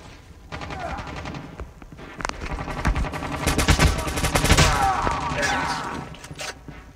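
Gunfire in the mobile game Call of Duty Mobile crackles in rapid bursts and scattered shots over several seconds, loud and layered, with a voice faintly present among the shooting.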